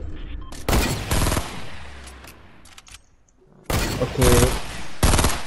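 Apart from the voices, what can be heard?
gunfire in the video game Fortnite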